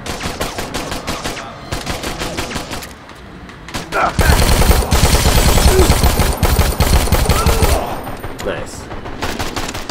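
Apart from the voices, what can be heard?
gunfire in the video game Dead Rising 4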